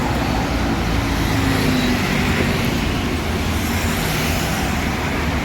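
Roadway rumble fills the air as a bus travels in the distance, a steady loud drone of engines and tyres with no clear pauses.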